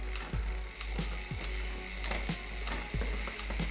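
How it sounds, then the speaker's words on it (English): A TR12 bicycle shifter clicks the derailleur through its gears, a series of crisp ratcheting clicks at a steady pace over a constant low hum, close by with no speech. "I'm going to start shifting the derailleur, shifting the shifter through its gears,"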